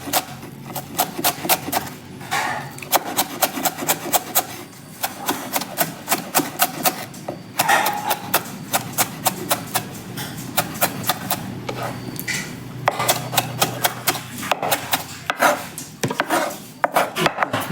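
Onions being chopped with a knife on a board while making pork momos at home: rapid, steady knife taps in quick bursts with short pauses, close and clear.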